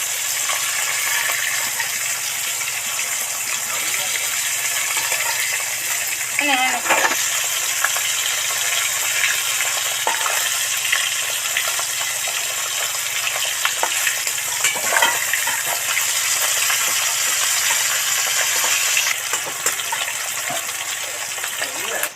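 Large koi fish fry in hot oil in a wok, giving a steady, loud crackling sizzle that fills the whole stretch, with occasional brief clatters of turning.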